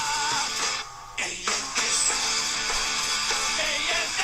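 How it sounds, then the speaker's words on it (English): A loud stretch of music with sustained tonal chords and a brief dip in the middle, playing continuously without any voices. "And the theme tune to that one sounds like this."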